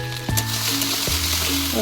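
Potatoes fry in a pan with a steady, close sizzle, joined by a few short clinks or stirring knocks.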